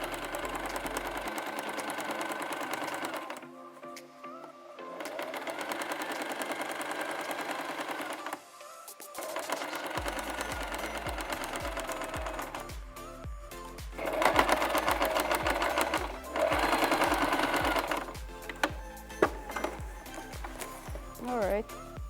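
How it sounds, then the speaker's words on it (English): Sewing machine stitching around the bottom edge of a fabric bag, a steady close mechanical whirring in long runs broken by short pauses, with a voice talking over parts of it. "sew all around the edge of the bottom of the bag"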